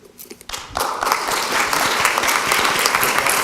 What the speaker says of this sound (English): One more round of applause for both of you, please.